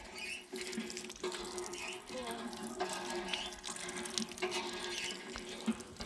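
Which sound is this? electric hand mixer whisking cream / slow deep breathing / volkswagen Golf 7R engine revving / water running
water running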